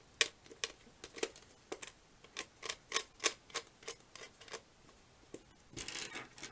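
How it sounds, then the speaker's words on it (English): Metal nuts are threaded onto bolts on a plastic safety reflector cone, making quiet, irregular small clicks and taps spaced close together, with a brief rustling scrape at the end. "I'm just going to put on all these nuts and bolts"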